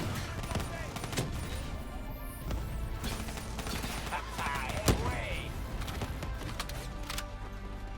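Dense gunfire from a Call of Duty Black Ops 3 campaign battle, with rapid bursts and shots crackling under steady game noise and a clear sharp report near the middle, over continuous talk.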